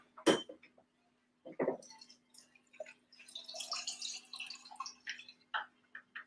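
Cocktail poured into a glass, opening with a couple of sharp clinks and then a faint, close trickle with small splashes and drips, fairly quiet.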